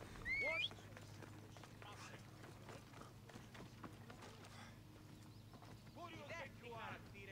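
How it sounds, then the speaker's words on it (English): Horse hooves clip-clopping in Assassin's Creed Odyssey, a quick steady run of hoofbeats close by under game music and ambience, with a short neigh near the start. "Yeah, the horse has about as much respect for the guards as I do."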